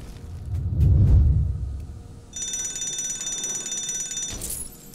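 A low rumbling thud, then a fire alarm in the video game LEGO Marvel Avengers rings with a bright, sustained buzzing electronic tone for a couple of seconds before cutting off.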